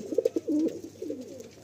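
A Madrasi pigeon coos softly at close range: a few short throaty pulses, then a longer rolling coo, alone in a quiet setting.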